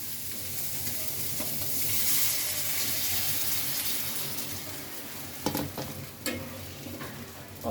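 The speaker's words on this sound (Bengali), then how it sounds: "অল্প একটু জল দিয়ে দিলাম" Fish frying in a pan sizzles loudly and swells into a hissing steam burst after a splash of water goes in, followed by a few utensil clinks and no speech.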